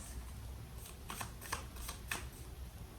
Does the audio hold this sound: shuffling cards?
yes